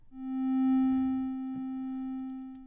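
A steady triangle wave tone from a SmplASketch synthesizer, a single clean sustained pitch with faint upper harmonics, fading in and holding for a few seconds alone.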